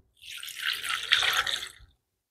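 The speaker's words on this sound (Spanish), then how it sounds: "Y aquí le ponemos agüita fría" Cold water pours in a brief, steady splashing stream into a blender for under two seconds, close by and fairly quiet, then stops.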